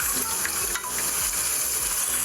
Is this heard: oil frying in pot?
yes